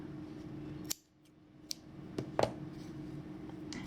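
Scissors snip off excess yarn from a crocheted mini St. Patrick's Day hat, giving a few quiet, sharp cuts close by in an otherwise quiet room.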